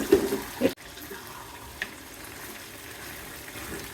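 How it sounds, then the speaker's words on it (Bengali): Small red local potatoes dropped into a simmering chicken curry of country rooster in a pan: a short burst of splashing sizzle at the start, then a quiet, steady bubbling. "এখন আমি আলুগুলো দিয়ে দিচ্ছি।"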